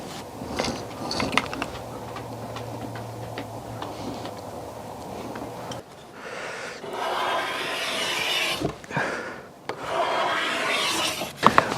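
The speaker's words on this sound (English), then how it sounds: "When you use a card scraper, you're creating so much friction" A thin steel card scraper is pulled along a wooden longbow limb, giving repeated rasping strokes, close and fairly loud, that grow broader and denser in the second half, with no talk.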